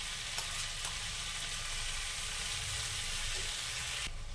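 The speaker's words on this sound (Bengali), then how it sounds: "পোস্ত বাটা দিয়ে দেবো" Ridge gourd and potato fry steadily in a pan as poppy seed paste goes in, a continuous soft sizzle with faint stirring clicks and a sudden rise in hiss near the end.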